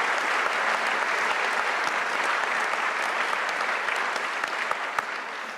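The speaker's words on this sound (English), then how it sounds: "Let's give them all a round of applause." Sustained, loud applause from an athletics Hall of Fame ceremony audience honoring inductees, a dense steady wash of many hands clapping throughout, easing slightly near the end.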